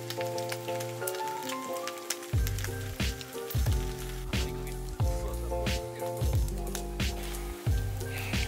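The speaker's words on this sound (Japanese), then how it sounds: "サクシー、サクのお好み焼きができてきた" Okonomiyaki sizzles steadily on a hot plate at a campsite, a dense crackling hiss that runs through the whole stretch alongside a low droning undertone.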